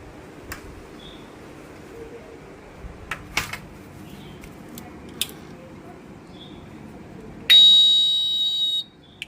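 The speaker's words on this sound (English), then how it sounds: "we can switch off the alarm so it doesn't keep on beeping" A homemade anti-theft alarm buzzer gives a single loud, continuous electronic beep for about a second and a half near the end, after a quiet stretch broken only by a few faint clicks.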